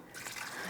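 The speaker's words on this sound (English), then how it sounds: "we'll pour in the ice water and see what happens" Ice water poured into a butter mixer bowl, a soft splashing trickle that starts abruptly and runs steadily at low level without talk.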